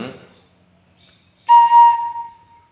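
Thai khlui flute sounding a single sustained do (C) note, a clean steady tone held for about a second with a slight fade, following a brief quiet gap.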